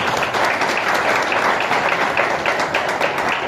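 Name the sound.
audience applause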